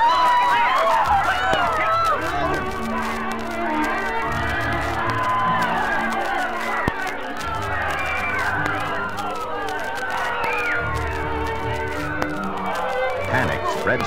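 In an audio drama, a panicked crowd flees a fire in an auditorium with a dense, continuous swell of overlapping shouts, screams and scrambling, loud and close throughout and mixed with music.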